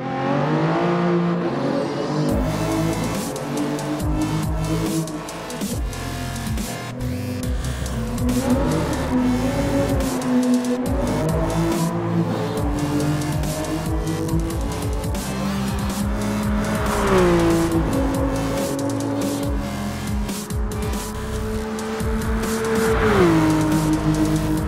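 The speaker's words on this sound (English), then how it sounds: "a cinematic replay of a quick lap in the brand new Toyota Gazoo Racing Supra race car concept 2018 around the World Suzuka Circuit" Toyota Gazoo Racing Supra race car concept 2018 lapping the Suzuka Circuit in Gran Turismo Sport, a loud engine rising and falling through gear changes, with tire squeal and skids over a constant roar.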